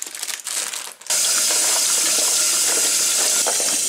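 Tap water pours steadily over sugar snap peas being washed in a kitchen sink, a close, loud broadband rush that starts abruptly after a brief quieter moment and runs on without a break.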